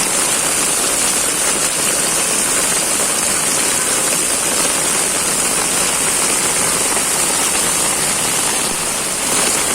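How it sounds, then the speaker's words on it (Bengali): Heavy rain pours down on a city street in Mumbai, a dense, loud, unbroken hiss of downpour that stays steady from start to finish with no voices. "কত জোরে বৃষ্টি পড়ছে দেখুন"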